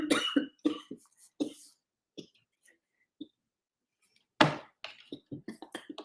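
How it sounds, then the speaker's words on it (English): A woman coughs in several short, sharp bursts with pauses between, close and clear in a quiet room, a final cluster of coughs after a silent gap. "Because she's coughing."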